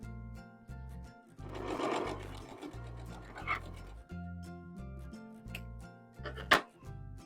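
A sewing machine stitches a quilt block for a four-petal flower design in short, stop-start bursts of rapid whirring, quiet and close, with small clicks and rustles of fabric between runs.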